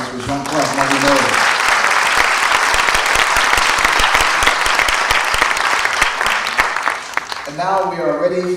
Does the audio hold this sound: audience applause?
yes